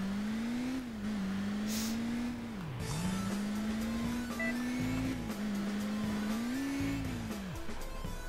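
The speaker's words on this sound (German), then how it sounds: "Oh, ich hatte vergessen, dass der Wagen so unglaublich schnell fährt." A fast car in the Alarm für Cobra 11 Crash Time driving game, a sustained loud engine drone that rises and dips with speed, with tire squeal and bumps underneath.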